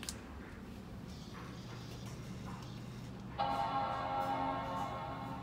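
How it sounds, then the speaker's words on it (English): An early 2006 Core Duo MacBook plays its startup boot chime, a single sustained harmonic tone that rings out suddenly and fades slowly, preceded by quiet ticking and faint room hum. "that boot chime never gets old"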